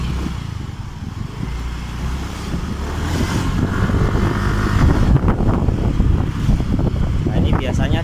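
A Soul GT 125 motorcycle engine with a misfiring, sputtering fault revs up loudly under wind buffeting on the microphone, then drops off throttle and falls away as if about to stall.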